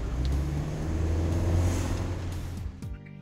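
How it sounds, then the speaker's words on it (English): A car with a 2-litre petrol engine runs with a steady, close, droning rumble that swells slightly, then drops away abruptly near the end. "The reason for that great fuel economy is a 2-litre petrol engine."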